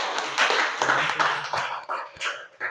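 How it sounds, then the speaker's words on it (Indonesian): A small classroom group claps briefly during a computational-thinking lesson, producing a short burst of scattered, uneven hand claps at moderate loudness that thins out over about three seconds. "Beri tepuk tangan dulu."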